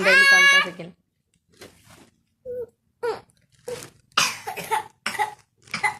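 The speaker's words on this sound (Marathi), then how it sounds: "खोकला झाला ना पिल्लूला" A small child coughing indoors in a home kitchen, with a drawn-out vocal wail first and then several short, separate cough bursts spaced over a few seconds.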